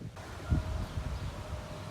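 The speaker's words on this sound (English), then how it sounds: "Anyhow, it's really windy." Strong, gusty west-southwest wind blowing outdoors near a power line, a steady low rumble of wind noise with one brief louder buffet, heard alone without talk.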